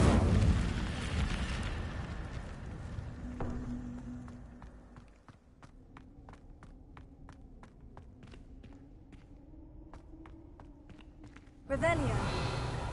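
A fiery blast from the Incendio spell in Hogwarts Legacy roars loud and broad at the start, then fades into a low rumble under a spoken voice, with scattered sharp clicks and a fresh loud burst near the end.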